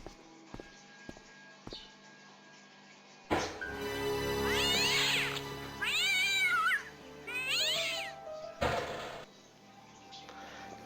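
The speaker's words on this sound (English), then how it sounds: "Damn cats!" Cats in the Broken Sword: Shadow of the Templars video game let out three drawn-out, wavering meows in a row, fairly close and clear, after a few soft taps and a thud.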